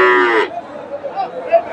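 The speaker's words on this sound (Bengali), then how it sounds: "ফ্রিজিয়ান জাতের ষাঁড়।" A Friesian bull calf at a Bogura cattle market lets out one loud, close moo that breaks off abruptly, followed by quieter market background and faint voices.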